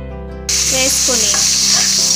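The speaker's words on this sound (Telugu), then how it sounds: "దోరగా వేగనివ్వాలి. పచ్చిమిర్చి ముక్కలు వేగాయి." Chopped green chillies and onions dropped into hot oil with tempering spices for a brinjal tomato curry, erupting into a loud, steady sizzle with spatula stirring scrapes after a quiet start, no talking.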